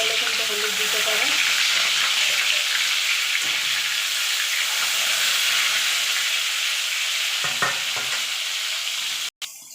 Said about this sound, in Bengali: এবার মাছগুলোকে এপিট ওপিট করে আমি ভেজে নেব।